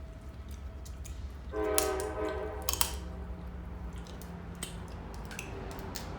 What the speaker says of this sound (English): now y'all hear a train